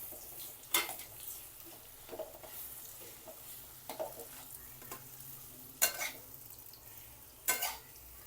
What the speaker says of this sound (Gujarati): સરખી રીતના એને હલાવી લઈએ.